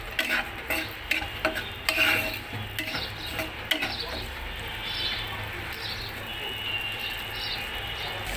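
Chopped nuts fry in a pan for shahi zarda, with a soft, low sizzle. A spatula clicks and scrapes against the pan in quick bursts early on, then the stirring settles into quieter frying.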